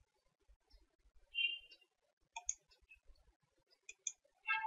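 A computer mouse gives several sharp, faint clicks in close succession, some paired as double-clicks, at a quiet desk while surveying software is used to draw a polygon.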